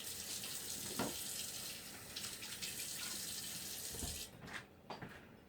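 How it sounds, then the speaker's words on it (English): Faucet water runs steadily into a kitchen sink as hands are washed, a continuous close hiss and splash that cuts off near the end, followed by a few soft handling knocks. "Go ahead and wash my hands real quick."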